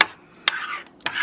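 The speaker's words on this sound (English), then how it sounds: "go ahead and just stir that together." Italian seasoning being stirred together in a crock pot for meatballs, two quick spoon scrapes against the pot over a faint background, close and brief with no voices.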